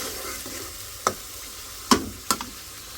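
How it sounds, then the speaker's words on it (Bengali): Spice paste with blended garlic and onion sautés in a pan with a splash of water, a constant low sizzle broken by three or four sharp scraping clacks of a spatula against the pan. "একটু পানি দিয়ে দিয়ে মশলা মশলা অনেকটা কষাচ্ছি"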